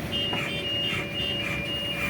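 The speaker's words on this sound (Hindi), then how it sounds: "ये सिग्नल भी दे दिया है, अलार्म भी बज गया है उसका" A mobile jaw crusher's alarm sounds steadily as its feeder is switched on, a continuous high electronic tone ringing over the constant drone of heavy machinery for about two seconds.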